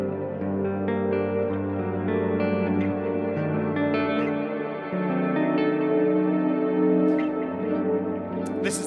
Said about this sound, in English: Plus, stick a load of that reverb on it.